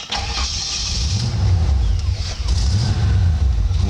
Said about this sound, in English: And that's starting the car.